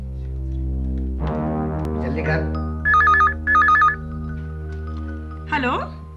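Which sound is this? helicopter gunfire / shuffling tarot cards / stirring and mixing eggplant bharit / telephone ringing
telephone ringing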